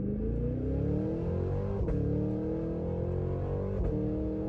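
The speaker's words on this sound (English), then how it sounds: "LT4 supercharged V8 sounds in the Escalade V. You won't believe that this noise is coming out of an SUV." The LT4 supercharged V8 of a 2023 Cadillac Escalade V roars as the SUV launches hard, pitch climbing steadily with two sharp gear shifts breaking the rising growl.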